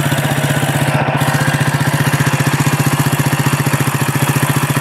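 A Mutt Motorcycles Mastiff engine idles loud and close, a fast, even thumping putter that holds steady throughout.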